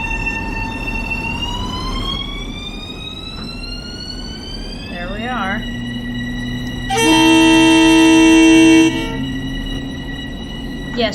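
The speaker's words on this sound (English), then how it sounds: "Just a quick knock of the horn to let people know that we're on our way." A loud, sustained multi-tone train horn blast of about two seconds in Train Sim World 3, on a Long Island Rail Road local train from Hicksville to New York Penn, sounds over steady engine rumble, with pitch-sliding tonal hums before it.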